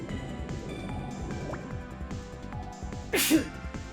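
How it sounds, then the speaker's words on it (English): A single close sneeze bursts out near the end of a short stretch of game music. "Excuse me, I sneezed."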